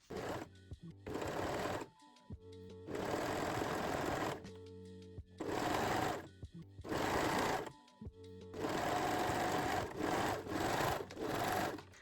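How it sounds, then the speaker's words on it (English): A serger or zigzag sewing machine stitches a seam on high-waist panties, running in several loud sustained bursts of whirring with short pauses between them, alone without talk. "And sew this seam using a serger or a zigzag stitch"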